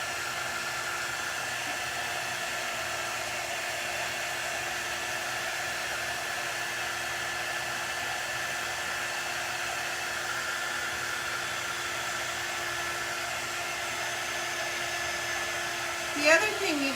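A hair dryer blows steadily over a painted craft to dry pumpkin spice ink, giving an unbroken, close, even whoosh that lasts the whole stretch, with a brief bump of handling noise at the very end.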